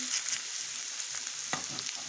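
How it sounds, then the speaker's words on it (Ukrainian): A steady, quiet sizzle of meat patties frying in a hot pan, with a few soft clicks and scrapes of a utensil; no voices. "Зараз я викладую їх на розкалену сковорідку."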